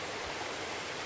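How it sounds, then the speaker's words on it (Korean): Steady, dense rush of a mountain valley stream flowing in a remote Jirisan gorge, a continuous broadband water noise heard alone without voices. "계곡에서 흐르는 물소리를"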